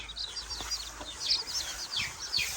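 Chickens raised on a farm cluck and chirp in a brief, fairly faint run of repeated calls, several birds close together with no voices.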